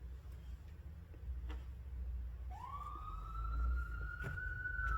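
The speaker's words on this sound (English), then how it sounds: "You hear the sirens?" An emergency vehicle siren rises and then holds a steady wail outside, heard at a distance over low rumbling background noise, with faint ticking sounds scattered throughout.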